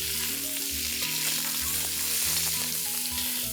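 Diced red, yellow and green bell peppers sizzle and crackle steadily in a pan, a dense continuous frying hiss with soft stirring underneath and a low tonal hum throughout.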